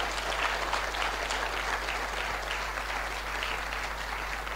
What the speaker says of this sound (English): let's put our hands together and give them a massive round of applause